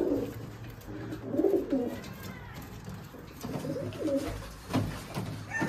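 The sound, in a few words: giribaj pigeons cooing in a breeding room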